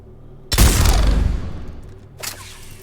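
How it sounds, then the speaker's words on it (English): Single loud shotgun blast from the Mass Effect 3 video game, a heavy booming shot that decays over about a second, followed by a softer mechanical reload clack. "It's one shot and you have to reload."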